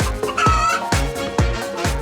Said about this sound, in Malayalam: അതിരാവിലെ കോഴി കൂവിത്തുടങ്ങും.